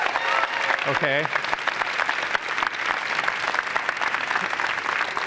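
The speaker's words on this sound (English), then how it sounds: "let's give them a round of applause as well" Audience applause fills a conference keynote hall, a dense steady clapping that carries through the whole stretch while a presenter speaks briefly over it.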